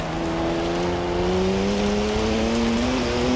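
A 2011 Koenigsegg Agera in Forza Horizon 4, its engine droning loud and steady and slowly rising in pitch as it accelerates, close and continuous without a break.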